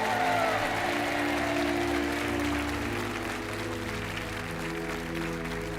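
A French TV game show studio audience applauds as the contestants leave, steady moderate clapping that holds evenly for several seconds, alone without talk.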